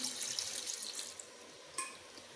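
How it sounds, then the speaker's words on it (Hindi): About two glasses of water being poured into a cooking pot of beef karahi with turmeric and tomatoes, a steady hissing splash throughout with a brief louder splash near the end, no talk. "अब मैं तकरीबन 2 गिलास इसके अंदर पानी ऐड करूँगी"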